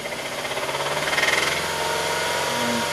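A car engine runs steadily at about 3000 rpm with the cylinder 1 injector disconnected, a loud close mechanical hum with a faint pulsing beat and no voices.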